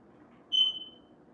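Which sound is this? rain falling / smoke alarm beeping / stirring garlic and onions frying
smoke alarm beeping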